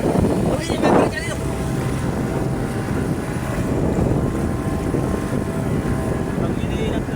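New two-stroke boat engine running in Lian, Batangas, a steady rough drone with wind noise on the microphone, continuous throughout, with a person talking briefly near the start.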